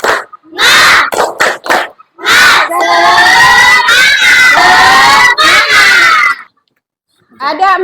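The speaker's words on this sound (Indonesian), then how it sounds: "Mari kita tepuk semangat bersama." A class of fifth-grade children in a school lesson shout together loudly in a cheer, with sharp bursts and sustained group shouting, ending in a brief pause and a final shout.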